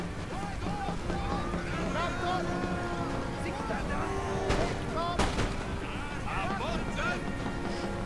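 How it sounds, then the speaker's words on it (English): Artillery fire during a battle in Empire: Total War, with scattered cannon booms and sharp reports over a busy din of battlefield noise, moderately loud and continuous. "And here comes the artillery."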